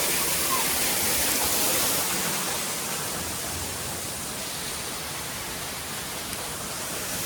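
Heavy monsoon rain and rushing water at Malshej Ghat make a dense, steady roar that fills the scene, loud and close throughout with no clear voices.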